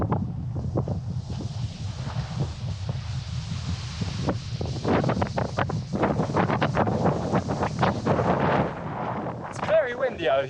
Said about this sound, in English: It's very windy out here though, my goodness.